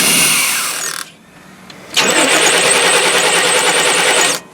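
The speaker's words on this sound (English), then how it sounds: "It starts up pretty good. It idles nice." The 454 TBI engine in a 1992 P30 RV cranks briefly, pauses, then fires up and idles steadily with a loud, even drone before cutting off near the end.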